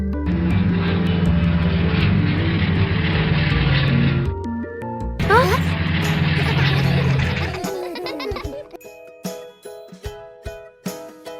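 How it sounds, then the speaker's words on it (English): A toy airplane engine in a Peppa Pig cartoon drones loudly and steadily, cuts out briefly, then starts up again before giving way to a series of bright tinkling chime hits, with no talking. "A toy airplane starts to operate."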